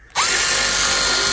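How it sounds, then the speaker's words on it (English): A power tool, likely an impact driver or drill, loosens nuts on a John Deere 2025R compact tractor, starting abruptly and whirring loudly and steadily at close range, with no talking. "Just having power tools is your advantage."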